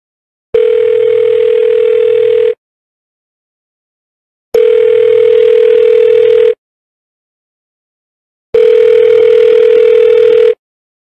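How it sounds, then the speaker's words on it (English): An elevator emergency phone rings while connecting to a dispatcher: three loud, identical two-second ringback tones spaced by two seconds of silence, with no voices. "You have activated the emergency phone. Connecting to emergency dispatcher."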